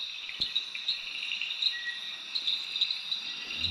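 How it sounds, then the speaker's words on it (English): Steady high-pitched insect trilling from katydids, continuous and layered, with faint pulsing accents; a quiet outdoor night chorus with no voices. "And we also hear a lot of katydids."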